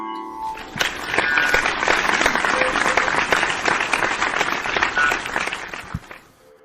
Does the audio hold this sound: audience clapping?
yes